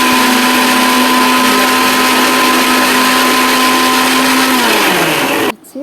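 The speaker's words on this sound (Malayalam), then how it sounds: "ചെറിയ കഷ്ണങ്ങളാക്കി അതിനെ മിക്സിയുടെ ജാറിൽ ജാറിലിട്ട് കുറച്ച് വെള്ളം കൂടി ചേർത്ത് നന്നായിട്ടൊന്ന് അരച്ചെടുക്കണം" A mixer grinder whirs steadily and loudly while blending chopped apple with water, its motor pitch dropping near the end before it cuts off abruptly.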